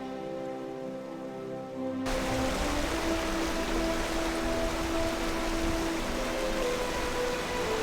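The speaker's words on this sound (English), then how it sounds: "the sound of running streams." Running stream water on a Montana ranch at Wolf Creek, starting after a brief quiet musical passage, then a steady, close, full rushing wash that continues evenly to the end.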